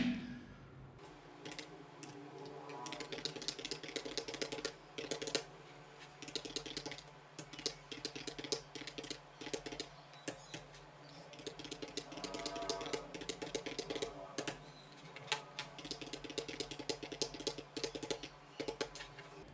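Someone types student grades into an Excel spreadsheet on a computer keyboard, producing soft, quick, irregular key clicks in bursts and pauses, close and quiet with no talking.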